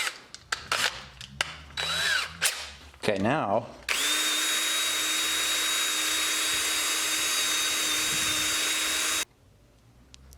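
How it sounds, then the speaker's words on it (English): A few clicks and brief voice come first, then a power drill whirs loudly at a steady high pitch for several seconds before stopping abruptly. "I'm gonna shove this in the drill chuck."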